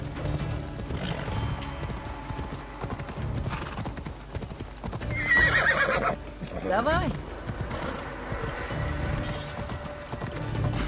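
Rhythmic hoofbeats of a galloping horse in Assassin's Creed Odyssey with a whinny partway through, set against game music, with a brief spoken word.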